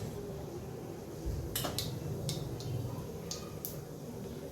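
Mustard seeds dropped into hot oil to temper a bottle gourd and chana dal curry, giving a handful of sharp, scattered crackling pops over a steady low background hiss.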